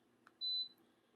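An appliance gives a single short, clear beep as a button is pressed, preceded by a faint click, in an otherwise quiet room.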